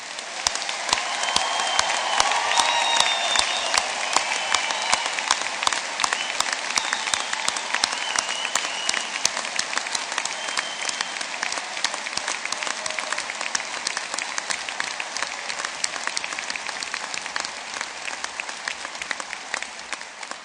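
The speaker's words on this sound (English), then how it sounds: "take that celebratory last clap, that last cheer. I'd like you all to give yourselves a round of applause," Sustained loud applause from a large crowd at an Ulster University summer graduation ceremony in Belfast, steady dense clapping that eases slightly over twenty seconds, with no cheering clearly standing out.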